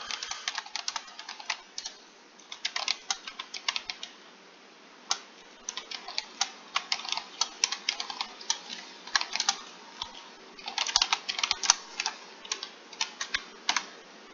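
Keys clatter on an Apple IIe computer keyboard during an Ultima IV game, with quick irregular bursts of close, crisp clicks and short pauses between them.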